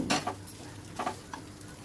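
Potatoes and spices stirred in a pan over medium-high heat, a few quick scraping strokes of the spoon over a low, steady sizzle, close and fairly quiet.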